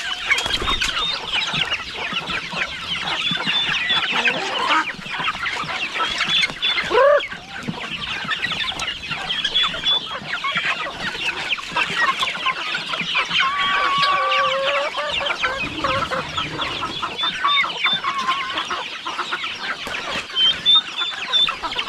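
Chickens clucking steadily at close range in a farmyard setting, with overlapping hen calls and occasional rooster sounds over about twenty seconds, almost no talking.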